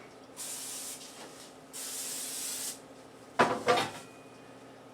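Cooking spray is sprayed over the top of a foil-lined sheet in two close, steady hissing bursts, followed by brief sharp clatters of handling.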